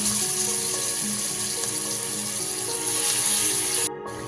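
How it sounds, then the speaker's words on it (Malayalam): Chicken frying in oil with a teaspoon of ghee in a pan for Kannur-style fried chicken biryani, a steady dense sizzle running continuously at close range, cutting off abruptly near the end. "നമുക്ക് ചിക്കൻ തിരിച്ചും മറിച്ചും ഇട്ട് ഫ്രൈ ചെയ്ത് എടുക്കാവുന്നതാണ്"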